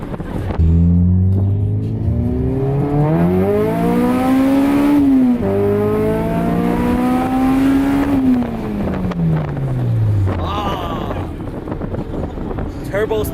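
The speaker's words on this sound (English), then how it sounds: "Turbo spooling and everything, bro." Mercedes car engine revving hard with its turbo spooling, pitch sweeping up, dropping and climbing again through two long pulls before falling away, loud and close with wind buffeting the microphone.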